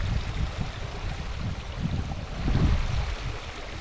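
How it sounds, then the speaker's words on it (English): Water from a creek pours through a culvert along a hiking trail in Mount Rainier National Park, a steady, close rushing roar that swells and churns throughout with no voices. "found an actual creek with a culvert"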